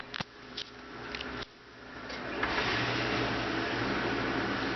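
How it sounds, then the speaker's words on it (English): A household dishwasher runs in a kitchen, a few faint clicks and knocks giving way to a steady whooshing spray hum that swells and holds, with no one speaking. "My dishwasher will not let up."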